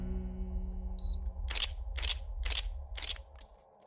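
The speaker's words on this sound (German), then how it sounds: "knips so viel du kannst" A camera shutter clicks four times in an even rhythm while photos are taken with flash, sharp and close, after a low steady hum and a faint electronic beep.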